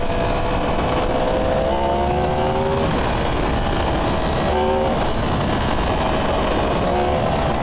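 A 2023 Yamaha MT10 motorcycle with its exhaust servo deleted, its engine revving hard with rising, raspy harmonic sweeps across several gear pulls under loud, constant wind buffeting, heard from the rider's position.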